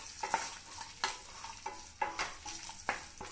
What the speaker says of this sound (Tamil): இந்த இஞ்சி பூண்டு பச்சை மிளகாய் இதில் உள்ள பச்சை ஸ்மெல் போகிற வரைக்கும் இதை ஒரு 2-3 நிமிஷம் அந்த எண்ணெயிலே நல்லா வறுத்துக்கலாம்